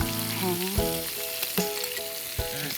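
Mustard sauce goes into duck pasta frying in a pan, and the mixture is stirred. A dense, continuous close sizzle carries a few distinct spatula knocks, while some tonal background music runs underneath.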